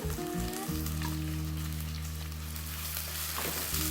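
Crushed ginger and garlic, finely chopped shallots and onion with fennel seeds frying in oil for a Kerala-style mutton liver roast, giving a continuous close sizzle over a low steady hum, without talk.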